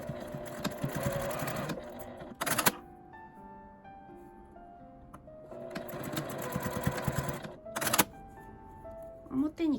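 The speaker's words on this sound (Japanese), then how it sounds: "半分に折って両端を5ミリの縫い代で縫います。" A home sewing machine stitches both ends of folded fabric with a 5 mm seam allowance for a tent-style pouch, running in two steady bursts with a quieter pause between and short clicks at the stops.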